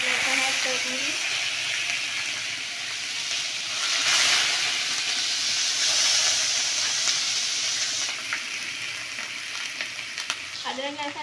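Whole black peppercorns, a cinnamon stick and a black cardamom pod fry in hot oil for a mutton karahi, giving a steady close sizzle and crackle that swells briefly midway and carries on alone without talk.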